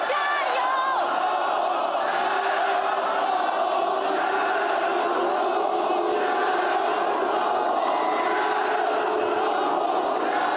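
Packed esports arena crowd at a League of Legends final loudly chanting a rhythmic cheer for Top Esports, a dense wall of many voices sustained throughout.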